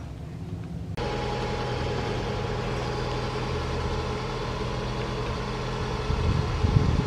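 A truck engine, its exhaust rigged up underneath after repair, turns over and catches, then settles into a steady, loud close idle with no rattling, the rumble swelling slightly near the end.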